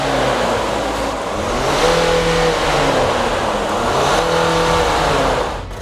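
Diesel car engine revving steadily under throttle while parked during an on-car DPF and catalyst cleaning, a loud continuous drone rising and holding for several seconds with shifting pitch, no voices.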